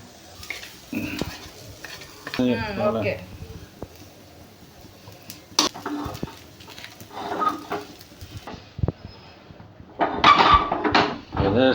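Food is stirred in a pan as oil is poured over it, giving scraping stirs, clinks and a light sizzle, with people talking throughout.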